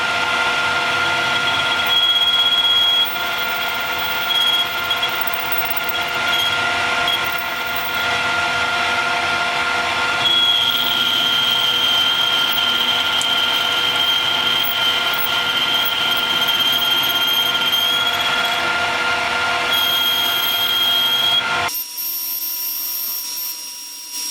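A lathe with a boring bar enlarges the hole in a brass ring made from bullet casings, a steady mechanical whine with a sharp cutting tone that runs close and loud for about twenty seconds before cutting off abruptly near the end.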